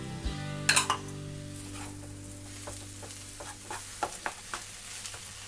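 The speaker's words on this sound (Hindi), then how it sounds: "इसको तेज आंच पे थोड़ा सा फटाफट इसको भून लेंगे" Boiled potato stuffing with mint and fresh coriander stir-fried on high heat in a pan, with a steady low sizzle, intermittent spoon scrapes and clinks against the metal, and a sharper clatter near the start.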